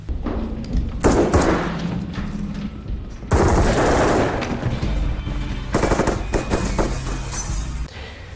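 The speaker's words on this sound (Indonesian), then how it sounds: "para pengawal Lorea pun berdatangan sehingga baku tembak pun tak terelakkan." A shootout in an action film: dense, loud bursts of automatic gunfire with rapid rattling shots and heavy booms, nearly continuous with brief pauses, alongside crashing impacts.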